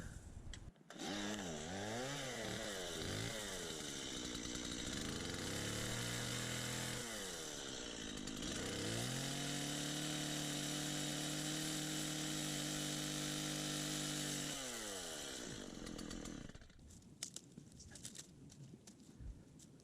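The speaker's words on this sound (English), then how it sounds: "So I'm gonna get the chainsaw and I'm gonna cut this out." A chainsaw cuts through a mostly dead branch of a Knock Out rose bush outdoors. The engine revs up loud and close, bogs and whines through the cut for about fifteen seconds, then idles down, with faint birds in the background.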